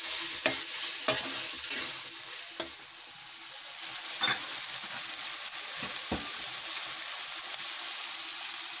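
Potatoes and paneer fry in a pan with a steady close sizzle, broken by several sharp scrapes and clacks of stirring spread through the stretch; nobody talks.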